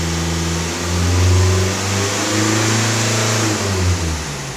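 A 2020 Volkswagen Passat B8 or Golf 7 engine, one with no rev limiter, revs up and holds high RPM, its steady harmonic drone rising and falling loudly up close with no voices.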